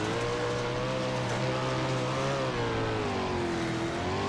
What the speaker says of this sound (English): you also hear the engine and how he lets off in the corner there